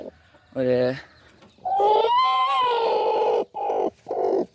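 A brooding hen sitting on about ten eggs on a Tamil farm gives a few close, low, throaty clucks and drawn-out grumbling calls in short separate bursts.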